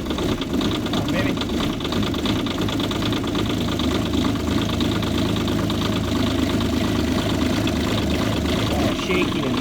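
Kubota K-008 mini excavator engine running nearby, a loud continuous shaky, rattly diesel chug with knocking throughout.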